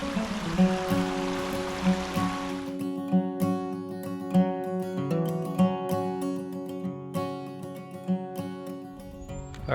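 Honey Creek runs at Reed's Gap State Park, a broad rushing wash of stream water that is clear for the first few seconds, then sinks beneath steady, tonal music that carries on to the end.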